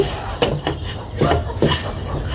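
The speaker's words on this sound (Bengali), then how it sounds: "গুঁড়া দুধটা দিয়ে আমি ভালোভাবে সিমাইয়ের সাথে ভেজে নিচ্ছি" Vermicelli being fried with powdered milk in a pan for creamy barfi, with a few scraping clatters of a spoon against the metal pan at an uneven pace, close and fairly loud, over a low steady background hum.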